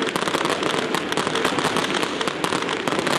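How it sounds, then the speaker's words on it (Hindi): A dense fireworks display at the 2021 opening ceremony crackles and pops almost without pause, with rapid overlapping bursts that sound moderately distant. "आतिशबाजी का खूबसूरत मुज़ाहिरा किया जा रहा है।"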